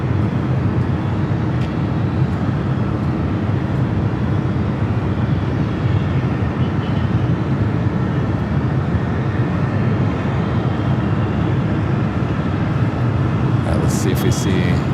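A 29-year-old Boeing 767-300ER airliner arriving from Honolulu at Los Angeles International Airport, heard as a steady, broad, continuous jet roar that holds at one loudness throughout.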